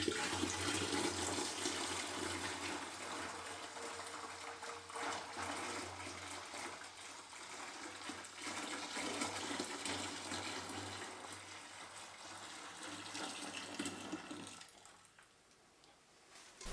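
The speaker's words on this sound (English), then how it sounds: "we're just going to pour the next batch into this" Mead mixture gushes steadily into a fermenting bin, a continuous liquid rush that runs for about fifteen seconds before stopping abruptly.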